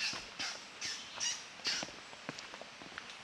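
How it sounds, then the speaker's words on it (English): Harsh, cawing bird calls repeat in short bursts near a waterfall in Dennery, St Lucia, about six in quick succession, fairly close, followed by a few softer chirps and ticks. "You're hearing the birds now"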